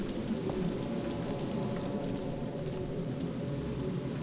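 Steady rain falls in the video game Project Zero: Maiden of Black Water, a dense, continuous hiss of drops on surfaces that fills the whole stretch evenly, with no voices over it.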